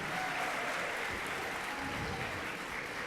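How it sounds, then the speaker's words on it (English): Steady applause from a school ceremony audience, a dense continuous patter of many hands clapping at moderate distance throughout. "let's give a round of applause to our 3KA"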